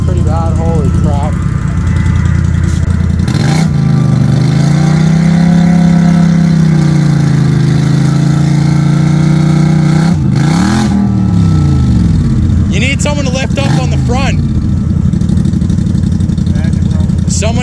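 A car engine revs hard and drones loudly as it sits stuck in a deep muddy hole, pitch rising and falling with throttle changes, with people shouting over it.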